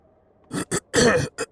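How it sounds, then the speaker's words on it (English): Throat clearing and coughing from a person playing 7 Days to Die Alpha 20, a few short rough bursts followed by one longer harsh clearing and a final brief cough, close and fairly loud. "I am having the throat and cough problems this morning as usual"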